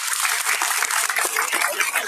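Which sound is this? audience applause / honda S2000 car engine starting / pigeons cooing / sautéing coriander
audience applause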